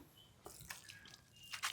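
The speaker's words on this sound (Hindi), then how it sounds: "तो दोस्तों इस तरह से जो है पानी हम डालेंगे, हल्का सा पानी डाल देंगे" Light water poured onto a freshly prepared fenugreek seedbed in a home vegetable plot, heard as a few faint, soft splashing and dripping bursts spread across a quiet background.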